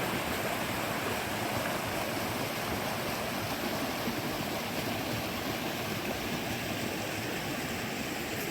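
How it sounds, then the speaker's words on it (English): Continuous rushing of a mountain stream on a trail to the Tripyramids in New Hampshire, water flowing steadily over rocks nearby with an even, unbroken wash of sound. "Easy peasy stream crossing."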